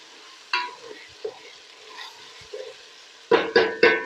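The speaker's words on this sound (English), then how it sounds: "Mix everything in." Chicken handi frying in a pot, with quiet sizzling punctuated by a few scattered spoon scrapes and then three loud, evenly spaced stirring scrapes at the end.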